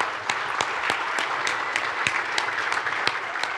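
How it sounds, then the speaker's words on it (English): A church congregation applauds the mothers at a Mother's Day service, a steady, moderately loud patter of many clapping hands with scattered sharper claps, heard alone. "if you would stand up and just let us applaud for you and give you lots of love"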